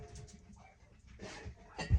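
Studio dogs whimper and shift about indoors, soft and fairly close, with brief whines and a sharper bump near the end, no voices.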